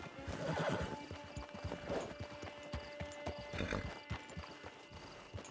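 Horse in the video game Red Dead Online whinnying loudly near the start and again later, with steady clip-clop of hooves throughout, close and clear.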